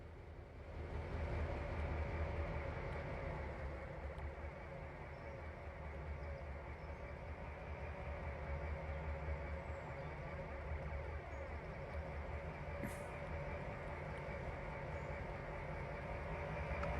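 A CSX GP38-2 diesel locomotive coupled to empty coal hoppers in the Trainz Simulator video game gives a steady, low rumbling drone that runs evenly throughout, with a faint rhythmic rail clatter and no talking.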